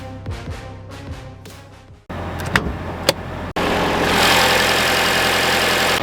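The 2.5-liter four-cylinder hybrid engine of a 2026 Toyota Sienna Woodland minivan starts up after a few clicks, catches with a loud jump, then settles into a steady, close running hum.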